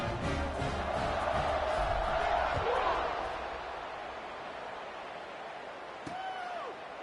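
A stadium crowd roars in the video game College Football 26, a loud sustained cheer that swells and then settles into a lower steady murmur, with a brief thump near the end.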